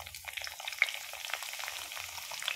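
Green chillies frying in hot tempering oil, with crackling sizzle and a few sharp pops over a soft steady hiss, close and fairly quiet, with no talk.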